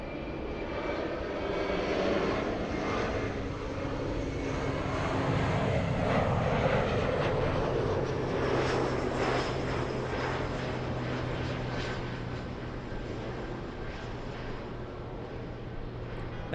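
Large airplane landing at LAX, a loud, continuous engine roar that swells and holds across the whole stretch before easing slightly toward the end, heard alone without talk.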